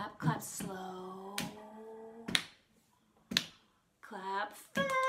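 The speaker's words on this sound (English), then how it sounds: "Hands are for clapping, clap, clap, clap." Hands clap slowly in a children's song, a few sharp, spaced claps between sung lines.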